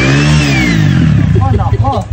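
A motorcycle engine revs loudly and close up, a steady high drone that breaks into uneven sputtering pulses toward the end, with no talk over it.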